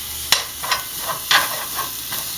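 Steady sizzling of food frying in a pan, with a few sharp crackles and stirring scrapes over a constant hiss.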